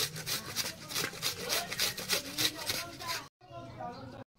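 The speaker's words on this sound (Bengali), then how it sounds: "পেঁয়াজটার সঙ্গে ঘষে নিল।" Hands rub an onion together in a kitchen while making paratha dough, giving a quick, rhythmic scraping and rasping close to the microphone, repeated strokes that stop briefly near the end before resuming.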